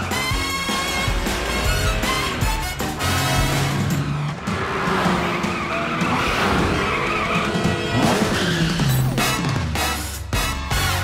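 The Cat-Car from the PJ Masks cartoon drives off with loud revving and repeated sharp tire skids, close and energetic, mixed with lively background music.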